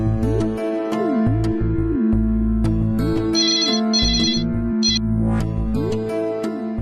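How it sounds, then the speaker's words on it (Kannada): A phone ringtone plays as a call is placed to a grandmother in a television serial, a steady repeating electronic melody with some background music and no talk. "ಅಜ್ಜಿಗೆ ಫೋನ್ ಮಾಡ್ತೀನಿ"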